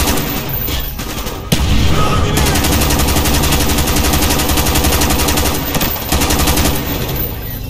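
Indiscriminate automatic gunfire in the video game Call of Duty Black Ops: loud, dense, rapid bursts that run almost without pause, with brief shifts in intensity and occasional heavier impacts.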